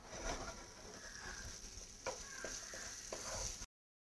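Chopped tomatoes sizzle and crackle faintly in a pan with ginger garlic paste, a soft steady frying hiss with a few stirring clicks.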